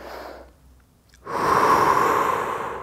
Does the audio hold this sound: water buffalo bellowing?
no